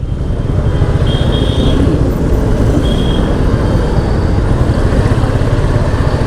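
Dense road traffic on a busy city street fills the air with a continuous loud rumble of cars, buses, trucks and motorcycles, and a couple of brief high horn-like tones ring out.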